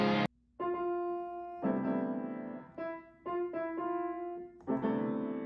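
A short sequence of piano notes from the Rhapsody Rabbit cartoon, played on an actual piano, each tone ringing clearly before the next, with brief pauses between some notes.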